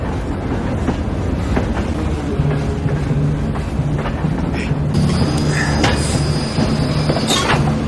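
A train rolls into a station and brakes to a halt, a steady rumble of wagons with wheel clatter and a long metallic squeal of brakes rising in the second half.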